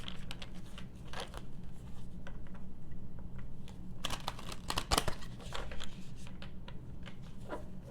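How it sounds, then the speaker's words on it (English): Soft, quick riffling and snapping of playing cards being shuffled, in irregular bursts with small taps, quiet and close. "So begin to shuffle."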